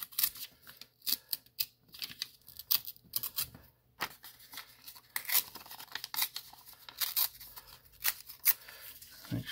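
Paper being ripped by hand into three pieces, several short crisp tearing bursts and rustles close by with brief pauses between them, no talking.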